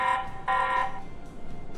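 A TP-Link Tapo C110 security camera sounds its built-in alarm siren, two short bursts of a bright electronic tone followed by fainter ticking pulses.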